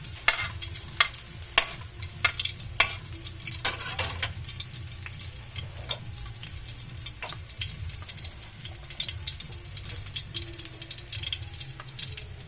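Garlic fries quietly in a pan with a soft, steady sizzle, broken by sharp clinks and scrapes of a utensil stirring against the pan.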